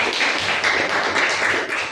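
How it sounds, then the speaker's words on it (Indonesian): Students in a classroom applaud, a dense, steady burst of many hands clapping close by, continuous across the whole moment. "Oke, kita kasih aplaus untuk."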